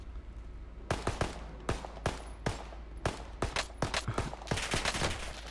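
Rapid bursts of gunfire crack out during the Godzilla vs. King Kong event in Call of Duty, close, sharp shots in irregular clusters over a low rumbling background, quickening into dense fire near the end.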